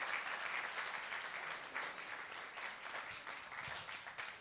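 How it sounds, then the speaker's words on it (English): A conference audience gives panelists a round of applause, an even wash of clapping that holds steady throughout at a faint, distant level. "Please give them another round of applause."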